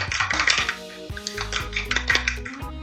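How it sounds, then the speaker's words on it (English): Banana bread batter whisked in a bowl for Jamaican-style homestyle bread, a series of close, brisk clinks and scraping taps of utensil against bowl in uneven bursts, with no speech. "But I whisk it."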